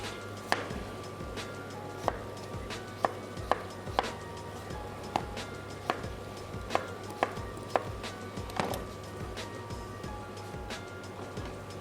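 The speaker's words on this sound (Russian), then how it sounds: "Если порезать вот на такой средний кубик картофель" A knife chops potatoes into medium cubes on a board, sharp irregular knocks repeating every half second or so, close and clear over a steady low kitchen hum, with no talking.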